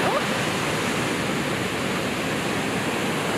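Ocean waves break at a surf spot where surfers ride, making a constant loud broadband wash of surf that roars without pause and fills the whole stretch.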